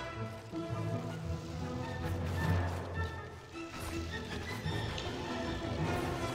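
Horses in a battle in the video game Mount and Blade: Warband, with galloping hooves, neighing and whinnying amid clashing combat noise, loud and busy throughout.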